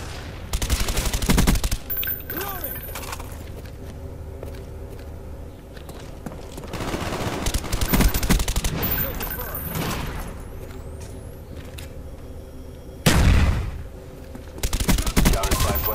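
Gunfire in a multiplayer capture-the-flag video game crackles in short bursts of rapid shots, some close and loud, others distant, with footsteps and a player talking between volleys.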